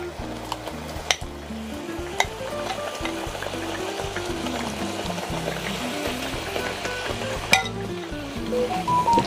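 Blended peanuts are stirred into a sauce in a pan, giving a continuous close sizzle with rhythmic scraping strokes and an occasional clink of the utensil against the pan.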